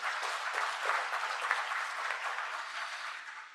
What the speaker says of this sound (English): he deserves another big round of applause